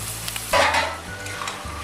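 Spiced masala sizzles and fries in a pan while being stirred for Kolkata-style chicken rezala, a burst of scraping and crackling about halfway through over a steady sizzle, close and alone.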